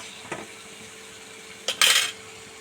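A spoon scraping and clinking in a pot while mango pickle spice paste with vinegar and salt is stirred: one faint tap, then a brief louder metallic scrape and clatter near the end, alone and close.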